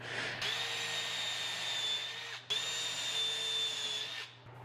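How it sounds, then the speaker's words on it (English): A power drill whines steadily at close range in two long bursts with a short pause between, winding down at the end, pre-drilling a pilot hole in a white oak drawer front. "Pre-drill the back of the drawer front and then screw it to the box."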